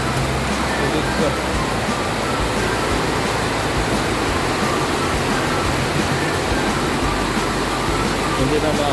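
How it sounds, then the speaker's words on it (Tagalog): Heavy rain pours down in a dense, steady roar that stays close and constant throughout, with no letup or gaps. "Lakas ng ulan."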